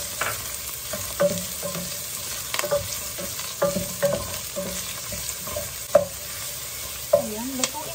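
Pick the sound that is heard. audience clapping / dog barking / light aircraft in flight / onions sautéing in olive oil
onions sautéing in olive oil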